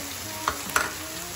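Cumin hitting hot oil for a fish curry, giving a steady, close sizzle with two brief sharper crackles as the seeds go in.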